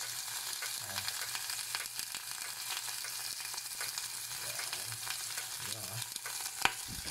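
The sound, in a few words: shrimp frying in olive oil with pepper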